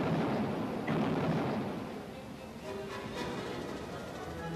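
Battleship guns of 16-inch calibre, as on the Missouri, Wisconsin and New Jersey, fire on Iraqi coastal defenses in Kuwait, heard as a deep, rumbling booming wash that swells early and then fades to a distant roar.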